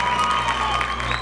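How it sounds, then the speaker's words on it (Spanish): Applause from a convention audience for a costumed cosplay group, a dense, steady patter of clapping with some crowd noise, held at an even level throughout. "Fuerte el aplauso."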